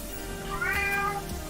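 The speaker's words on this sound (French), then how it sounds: "ce que vous entendez, c'est mon chat." A single cat meows, a drawn-out, rising and falling cry in the middle of the clip, over a steady low background hum.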